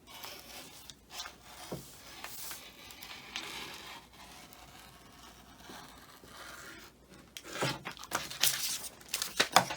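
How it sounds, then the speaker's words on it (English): Scissors cutting through knit dress fabric, a soft run of rustling, scraping snips that grows busier and louder toward the end, heard close up with no talking. "I'll cut along here to have my cut line for the bottom."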